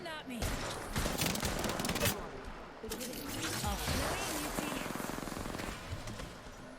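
Rapid automatic gunfire in the video game Apex Legends, with dense bursts of shots and fast, evenly spaced rounds toward the end.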